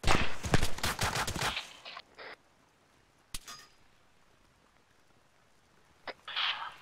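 Gunfire in the Arma 3 military video game: a rapid burst of shots opens, followed by isolated sharp cracks at a distance, with quiet ambient gaps between them.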